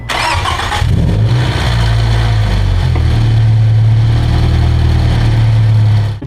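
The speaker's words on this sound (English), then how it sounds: "So I'm actually gonna start the car and we'll check it again." A Scion tC car engine starts up with a brief cranking burst, catches, and settles into a loud, steady idle close by, with a slight rev along the way and no voices.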